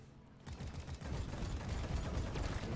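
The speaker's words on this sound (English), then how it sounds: "God, I really love the auto cannon." Rapid, sustained autocannon fire in the sci-fi mining co-op game Deep Rock Galactic, loud and close, a dense stream of heavy shots starting after a brief quiet moment and continuing steadily to the end.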